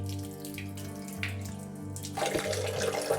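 Running water flows steadily through a soil sieve during a particle-size washing test, a continuous tap-like splashing and gurgling that grows louder and brighter near the end.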